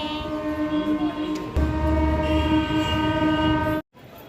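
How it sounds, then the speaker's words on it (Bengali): A train rumbling along with a long, loud horn blast sounding over the steady mechanical roar, heard from on board, ending abruptly. "আমরা এখন দেখো ট্রেনে উঠে পড়েছি।"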